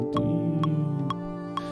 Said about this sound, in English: what you're hearing is a double bass